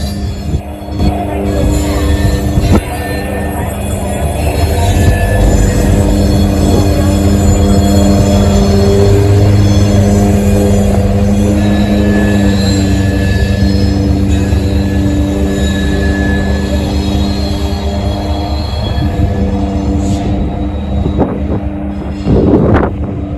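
A freight train led by two locomotives backs slowly across rail diamonds at night on the Mount Victory subdivision, a loud continuous rumble of engines and rolling cars with clanks and wheel squeal throughout.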